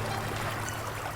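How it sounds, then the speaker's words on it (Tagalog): In the game Moms Hotel, water pours steadily in a brief, soft, even stream with no other sounds over it. "Ayun, may tubig."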